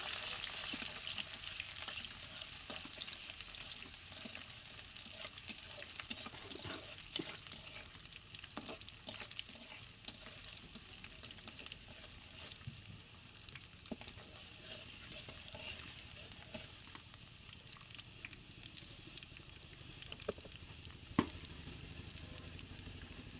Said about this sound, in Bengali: পেঁয়াজ কুচি দিয়ে দিলাম, ওকে নাড়ি ছেড়ে নেবো